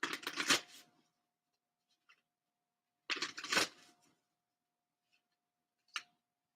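Card shuffling with a Moonology oracle deck, two loud riffling bursts close by with a faint tick between and a brief snap at the end.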